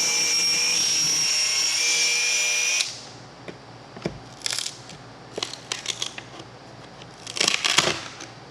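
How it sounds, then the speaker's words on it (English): A Dremel rotary tool whines loudly for about three seconds while cutting into a fiberglass boat deck skin, then stops, followed by scattered scraping and clattering sounds. "I have my little Dremel blade set to 1/4 inch, and we're gonna see if that's enough to take off,"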